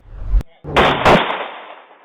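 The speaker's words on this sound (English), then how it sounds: "Those are gunshots" Two or three sharp, loud gunshots in quick succession from an off-duty police sergeant's gun near a residence's front porch in Chicago, with a short gap after the first, the last ones trailing off in a rough echoing decay.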